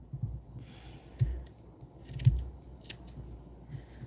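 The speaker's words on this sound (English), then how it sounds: "I'm going to go through here and snip these, trim these up." Small scissors snip the loose yarn ends on a crocheted mosaic mug rug, giving a few soft, quiet clicks spaced apart in a hushed room.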